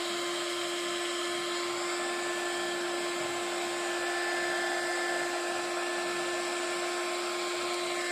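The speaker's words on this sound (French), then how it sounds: "Et donc je viens chauffer avec mon heat gun." A heat gun blows hot air over a card in a paper-crafting project, giving a steady, high-pitched whirring hiss with a constant whine that runs unbroken throughout, close and moderately loud.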